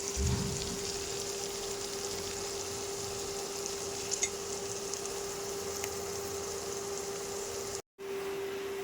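Chopped onion pieces frying in a pan give a steady, close sizzle and crackle that runs almost unbroken, with a brief dropout near the end.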